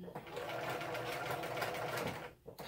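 A sewing machine stitches steadily and close up through fabric for a fashion accessory project, with a brief pause near the end.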